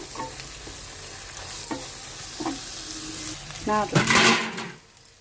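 Chili powder and spices fry in oil for a bottle gourd curry while being stirred, with soft sizzling, a few light scraping strokes and a louder burst of sizzle near the end, close by.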